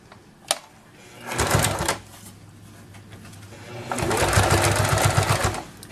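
A sewing machine stitches bias binding around a small wallet in two close, rapid whirring bursts, one short and one longer, with quieter handling noise between them.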